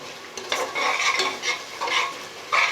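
Chicken curry sizzles in a pan while a utensil stirs it in repeated scraping strokes, close and steady.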